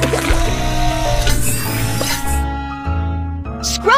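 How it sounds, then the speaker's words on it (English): Cleaning fluid sprays onto a school bus at a cartoon car wash in the Little Panda: School Bus game, a bright hissing burst of about two seconds over cheerful music, then some short sparkly effects. "Tap the button to spray the cleaning fluid."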